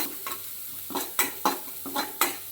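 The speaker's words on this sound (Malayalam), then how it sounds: "എണ്ണ ചൂടായി കഴിയുമ്പോൾ ആദ്യം നമുക്ക് ഈ പച്ചമുളക് ചാച്ച് വെച്ചിട്ട് പച്ചമുളകും പോകട്ടെ" Green chillies dropped into hot oil, sharp bursts of sizzling spatter in uneven pulses, close and moderately loud, with quieter gaps between bursts.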